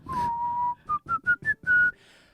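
A person whistles a short melody up close: one long held note followed by five quick, separate rising notes, clear and alone with no talking.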